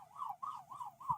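Ambulance siren on a Thai beach road, four rising-and-falling wails repeating about every 0.3 seconds, fairly faint and distant, with a low rumble of traffic beneath and no talk.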